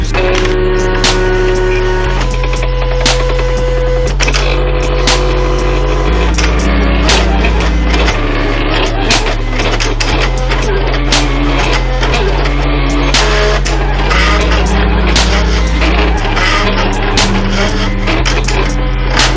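A vinyl cutting machine cuts out stickers with a continuous mechanical whir whose pitch shifts in steps as its motors move, along with scattered sharp clicks and ticks.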